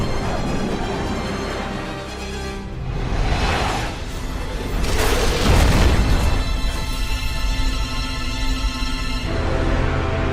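A bomb explosion sound effect builds into a heavy, booming blast with a rushing roar that swells midway and rumbles on loudly before fading slightly.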